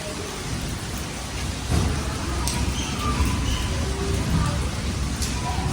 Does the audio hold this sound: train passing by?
no